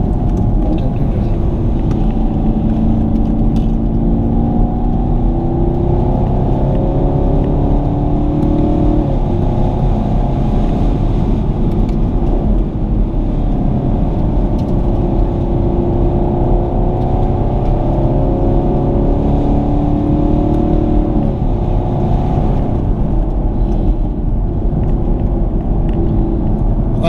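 A 2019 Chevrolet Camaro engine drones loudly and continuously, its pitch climbing and dipping as it revs, with no pauses throughout.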